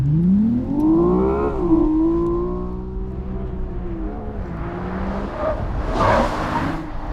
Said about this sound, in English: this is sort of a 70 to 80 kilometre an hour swerve and recover